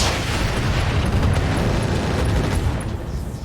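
Ammo explosion in the Roguetech BattleTech video game: a deep, rumbling boom with a dense low-end roar that holds steady and then slowly tapers, heard on its own without talk.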